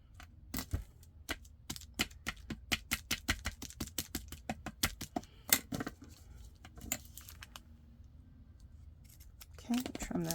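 Scissors trimming lace for a shabby-chic junk-journal lace cluster give a rapid run of crisp, close snips in quick succession, then a few scattered cuts. The sound thins toward a quieter end with a faint voice.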